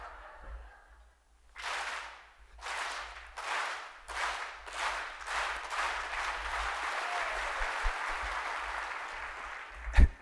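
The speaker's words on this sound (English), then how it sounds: "I always say that's a cheap way to get an applause" An audience at a medal of honour speech event claps in bursts that swell into steady, fairly loud applause, with no voice over it.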